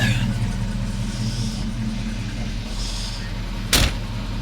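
A 1985 Mustang GT idles steadily while warming up, a low continuous engine rumble with a brief sharp clunk near the end.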